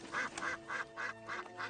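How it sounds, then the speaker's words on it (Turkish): Ducks quack in a steady run of about six evenly spaced, nasal quacks, moderately faint and alone, with no talking over them. "Hey bak, ördekler de var."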